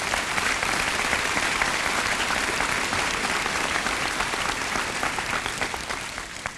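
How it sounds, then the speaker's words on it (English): A graduation crowd gives the school band a round of applause, with dense, steady clapping that stays loud throughout and tapers slightly at the end. "I'd like you to give a round of applause to our wonderful band"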